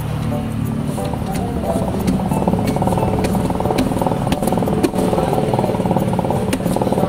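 Worn wheel bearing on a Toyota HiAce Commuter van, a steady mechanical rumble and rattle with engine drone running continuously throughout, fairly loud and without talk.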